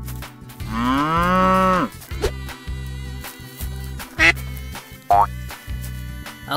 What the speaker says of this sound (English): Yellow cow.